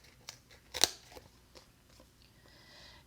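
Scissors snip through an adhesive sheet for a textured papercraft project, a few quiet crisp cuts with one sharper, louder snip near the middle and soft rustling afterward.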